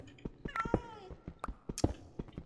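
A Minecraft cat gives a few short, close meows over a steady run of soft in-game thuds and footsteps, with no talking.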